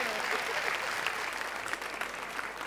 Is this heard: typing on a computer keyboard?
no